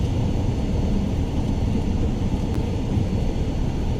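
A Cirrus Vision Jet G2 in Microsoft Flight Simulator 2020 taxis to a stop after arriving at Vancouver. Its engine gives a steady, loud, broadband rumble that holds evenly throughout, with no talking.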